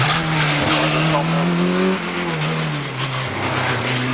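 Vintage Rolls-Royce-engined race car climbing Prescott hillclimb, its loud engine note rising through the gears and dropping between shifts, with a commentator talking over it.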